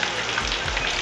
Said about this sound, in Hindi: कितनी खतरनाक बारिश पड़ रही है, जबरदस्त बारिश पड़ रही है